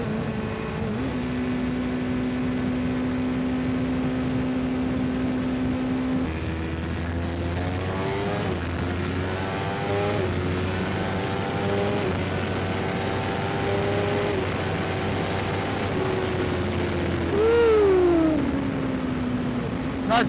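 A 2024 BMW S1000RR superbike runs under a rider, its engine note climbing and dropping through shifting revs in a steady, fairly close whine mixed with wind noise.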